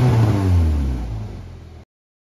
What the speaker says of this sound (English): this is what it sounds like with a hole in the muffler